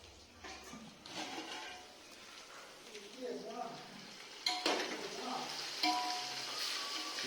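Onions fry in a pan for a mutton dish, a low continuous crackling sizzle heard from close by with occasional louder clinks and stirring, while people talk softly in the background.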